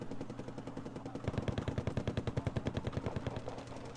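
Robot units firing in a strategy game, a rapid, evenly spaced stream of machine-gun shots that starts after a second and keeps a steady rhythm at moderate distance.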